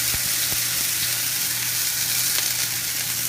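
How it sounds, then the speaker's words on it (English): Minced garlic sizzles steadily in hot oil in a pan, a loud continuous frying hiss with a few small pops and no talking. "now I'm going to go ahead and put the 1 teaspoon of minced garlic"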